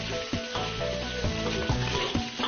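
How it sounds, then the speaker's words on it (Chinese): Chopped scallion, ginger, garlic and chili crackle and sizzle in hot oil in a wok as goose is braised in a village kitchen, a loud, close, continuous fry with a few sharp pops and stirring scrapes. "葱姜蒜辣椒下热油锅爆锅"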